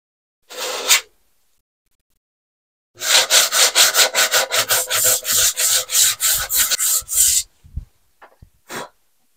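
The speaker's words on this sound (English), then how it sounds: "I'm going to start sanding. So I'm going to start with 120" Wood filler is sanded by hand with 120 grit sandpaper in a rapid series of close, raspy back-and-forth strokes. A brief stroke comes first, then a long rhythmic run, then a few scattered rubs.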